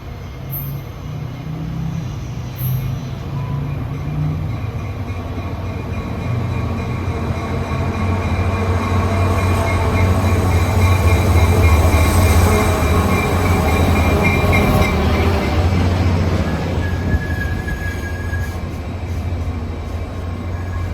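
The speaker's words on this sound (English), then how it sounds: "This is the last southbound Baby Bullet out of San Francisco to San Jose this morning" Caltrain's last southbound Baby Bullet from San Francisco to San Jose passes close by on grade-separated track at Hillsdale, a loud, building rumble of wheels and cars with a steady high squeal, easing off near the end.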